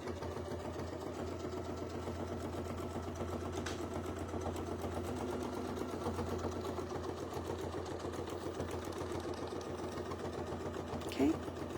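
A sewing machine stitches a quilt block guided by a Westalee ruler, its motor humming in a steady continuous run at close range while a person talks over it.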